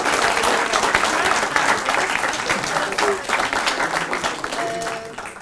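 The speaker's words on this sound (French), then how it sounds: "je pense qu'on peut à nouveau tous les applaudir" An audience at a semi-final speaking contest breaks into applause for all the candidates, a dense, loud wash of clapping that continues for several seconds and fades slightly toward the end, with a brief voice near the close.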